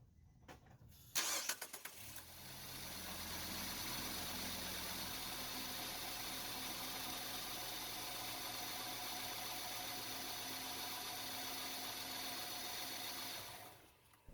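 A 2013 Nissan Versa engine cranks briefly, catches and settles into a steady, even idle that runs for about twelve seconds, recorded close with no talk.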